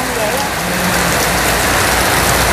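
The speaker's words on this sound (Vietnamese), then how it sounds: "bây giờ thì trời cũng mưa rồi" Steady rain falling outdoors, a dense even hiss that stays loud and unbroken throughout.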